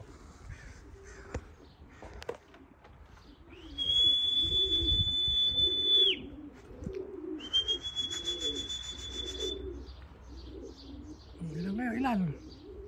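Racing pigeons arriving back at their loft after a 125 km young-bird training flight, soft rhythmic cooing close by with bird calls and rustling, and a high steady whine in two long stretches.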